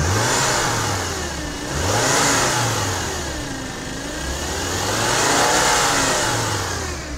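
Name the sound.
car engine revving with rattling AC compressor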